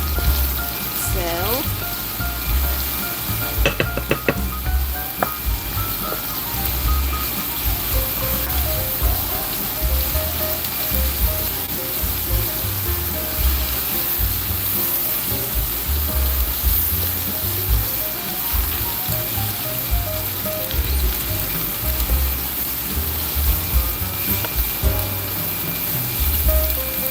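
Food sautés in olive oil with a steady, dense sizzle like rain on a surface, running throughout alongside occasional utensil clinks while a person talks softly.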